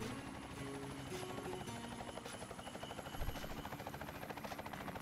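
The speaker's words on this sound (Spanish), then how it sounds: "Las misiones de helicóptero son lo mejor que tenían." A helicopter in the video game Ty the Tasmanian Tiger 2: Bush Rescue drones with a steady, rhythmic rotor chop and engine whine throughout, loud and close with no voices.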